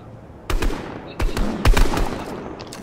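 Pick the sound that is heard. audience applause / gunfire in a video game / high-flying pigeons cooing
gunfire in a video game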